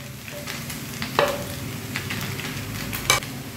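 Vegetables and spices for veg chowmein are stir-fried in a pan, a steady sizzle broken by a few scraping stirs and light clanks of a utensil, no voices.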